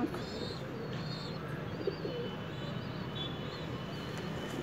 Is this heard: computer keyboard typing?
no